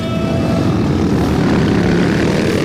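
Motorcycles on a dirt track race roar loudly and continuously, a dense engine drone with a steady buzzing tone and no pauses.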